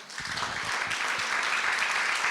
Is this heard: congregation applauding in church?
yes